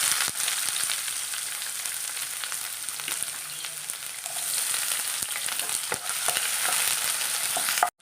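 Mustard seeds, chopped ginger and shallots frying in hot oil in a pan, a loud steady sizzle and crackle that runs throughout with occasional stirring clicks and no voices.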